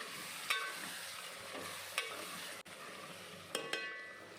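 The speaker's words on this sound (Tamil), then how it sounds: "அதுக்குள்ளே இங்கே தக்காளி நல்லா வதங்கி வந்துருச்சு." Soft, steady sizzling of tomatoes sautéing in a pan, with a few light clinks of a spoon stirring at intervals.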